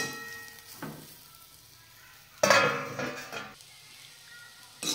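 Bitter gourd stir-fry being turned in a pan: scattered scrapes and a loud clattering stir burst in the middle, faint sizzle between, and a final clink, no talk.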